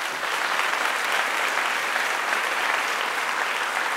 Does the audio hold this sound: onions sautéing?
no